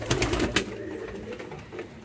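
Pigeons cooing softly at close range while an adult feeds a young chick, with a few sharp flutters or taps early on and a low murmuring coo beneath.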